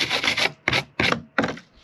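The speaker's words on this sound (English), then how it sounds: "So just take a stiff brush" A stiff brush scrubs out the grooves of a hand-routed wooden sign in four or five short, rasping strokes with brief pauses between them, close and alone.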